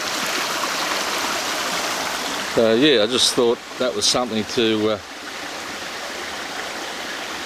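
A creek's water flows steadily and fairly loudly in a steady broadband rush, while someone talks briefly over it in the middle.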